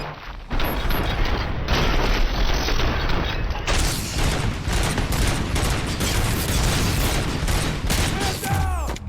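Gunfire in the Robocop Rogue City video game: a loud, dense fusillade of rapid shots with booming impacts and mechanical clatter, sustained without pause over the whole stretch, close and overwhelming.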